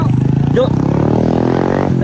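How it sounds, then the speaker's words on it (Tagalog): A 1967 vintage motorcycle engine idles with a deep, steady, rumbling throb, close and loud, while people talk over it. "Yung tunog pa lang ng motor niya, parang baruto"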